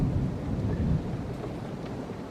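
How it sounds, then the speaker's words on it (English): Steady, fairly heavy rain pours down outdoors in a dense, continuous hiss, with a deep, rumbling undertone throughout and no voices. "it is raining right now"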